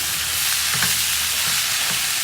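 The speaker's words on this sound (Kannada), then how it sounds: "ಒಗ್ಗರಣೆಯಲ್ಲಿ ಚೆನ್ನಾಗಿ ಮಿಕ್ಸ್ ಮಾಡ್ಕೊಳ್ಳಿ" Vegetables and flat beans are being stirred through hot tempering oil in a pan, giving a steady, close sizzle with soft spatula scrapes throughout and no voices.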